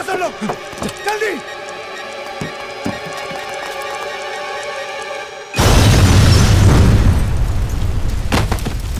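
A bomb blasts suddenly and loudly after several seconds of tense talking, followed by a sustained roaring, crackling rumble that fills the rest of the scene.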